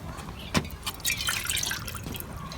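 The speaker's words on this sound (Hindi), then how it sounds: "फ्राई पैन चाड़ेंगे चूल्हे पे। और इसमें हम शामिल करेंगे तकरीबन 1 कप पानी।" About a cup of water is poured into a frying pan on a lit stove while making a Maggi noodle omelette, giving a brief splashy, trickling liquid sound, moderately quiet and without talk.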